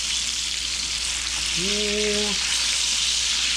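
Frog legs fry in oil at about 350 degrees with a constant close crackling sizzle, while a voice briefly speaks over it partway through.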